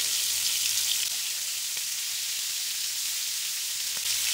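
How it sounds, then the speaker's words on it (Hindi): Steady, soft sizzle of lemon chicken tikka frying on a hot tawa, a continuous bright hiss with faint crackles and a low hum underneath, no voices. "तो चिकन को हमने यहाँ पे तेज आंच पे दोनों साइडों से अच्छी तरह से गोल्डन कर लिया है।"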